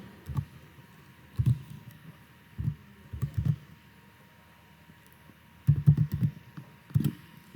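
Keys on a computer keyboard are typed in short bursts of a few clicks each, separated by pauses, while a heading is entered in a word processor. The keystrokes sound soft and close, with no talking.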